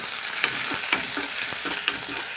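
Garlic and onion sizzling in a pan, stirred steadily, with a continuous frying hiss and regular soft scrapes of the spoon close by.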